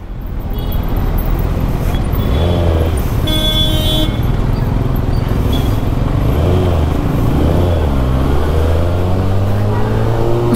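A Kawasaki Ninja ZX6R sport bike revs loudly and steadily up close amid city traffic in Bangalore, its engine note rising and falling over continuous road noise with a brief horn-like tone partway through.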